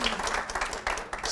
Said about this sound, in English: we're clapping for everybody